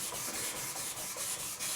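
Wet sanding by hand with 1000-grit sandpaper gives a faint, steady rubbing. The back-and-forth strokes come in a regular rhythm with slight dips between passes, and no voices are heard.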